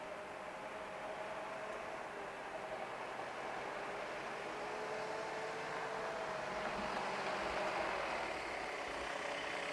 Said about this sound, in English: The tractor.